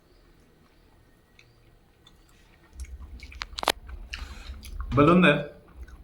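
Crunchy fried meal maker soya chunks being chewed close to the mic, a few soft bites leading to a louder burst of crunching, with brief speech nearby.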